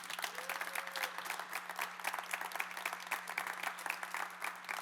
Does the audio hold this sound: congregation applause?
yes